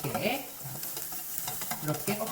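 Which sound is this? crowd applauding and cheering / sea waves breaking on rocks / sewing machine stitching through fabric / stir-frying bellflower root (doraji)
stir-frying bellflower root (doraji)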